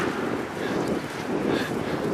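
Strong, cold wind blows steadily outdoors, buffeting the microphone with a broad, continuous roar and no talking.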